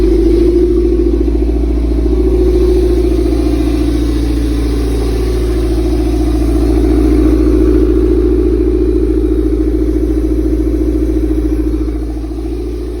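A Toyota MR2 engine runs steadily during a drive, a loud, continuous mid-pitched drone heard from close inside, with slight swells in revs and no voices over it.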